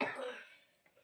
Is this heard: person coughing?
yes